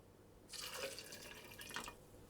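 Water is poured into a container of chopped dried apricots, a short, quiet splashing trickle lasting about a second and a half.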